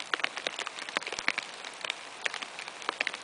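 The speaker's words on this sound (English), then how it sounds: "That is hail. Large balls of it, actually." Large hailstones falling outdoors along a hiking trail, a dense patter of sharp individual impacts in irregular rapid succession, close and moderately loud, with no talking.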